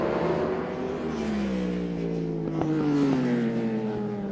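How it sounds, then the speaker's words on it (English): Superbikes racing on a circuit toward turn 1 in a championship race, a loud continuous engine roar with pitch sliding downward as the bikes brake and change gear, alone without voices. "Superbikes in particular, as they head down to start lap 5 and into turn 1 they go"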